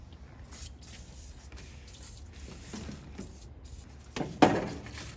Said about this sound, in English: Spray everything down, let it soak.